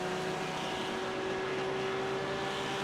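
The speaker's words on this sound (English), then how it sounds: "Listening to this Lamborghini scream in my right ear as I'm trying to make sure we both have room going up this track." A Lamborghini race car engine in a sim racing game at Watkins Glen holds a loud, steady, droning whine with a sustained tone, close and unbroken throughout, with no voices.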